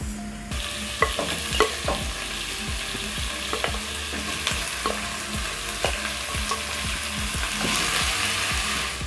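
Pieces of pork wet-frying in a pan, a dense steady sizzle with repeated sharp scraping and stirring clicks at irregular intervals, close and continuous.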